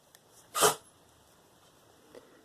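A single short, sharp sneeze from a small dog bursts out once amid quiet surroundings, with a faint click before and after.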